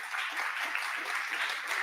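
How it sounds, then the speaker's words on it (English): An audience at a business summit applauds a guest speaker, a brief, even burst of many hands clapping together at moderate volume. "Please give Jeremy a round of applause."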